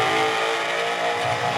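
A Shelby GT500 race car on a hot lap roars steadily at close range, its engine note loud and sustained without letup.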